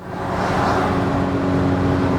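VW R32 driving on the road with a failing transmission, a steady droning engine and road roar heard from inside the car, rising slightly at the start and then holding constant.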